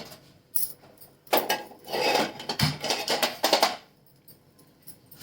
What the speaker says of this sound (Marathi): गॅसवरती कढई ठेवा